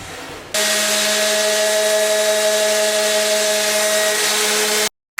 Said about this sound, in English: I will disassemble everything and sand it lightly with a 220 grit